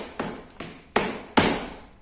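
Warm, flexible rubber tubing struck several times, giving four dull, close thuds at uneven intervals, each with a short decaying ring, the later hits louder, with no talk.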